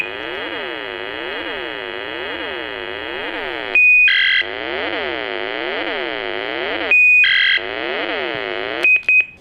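A loud electronic toy-gun sound from a 1990 Bandai Winspector Max Caliber DX repeats a wobbling, sweeping whine, interrupted three times by sharp high beeps, like a weapon charging and firing.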